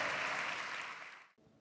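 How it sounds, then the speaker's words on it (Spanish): A congregation at a Sunday church service claps loudly and steadily for about a second and a half, then the applause cuts off abruptly. "Dele fuerte ese aplauso al Rey de Gloria"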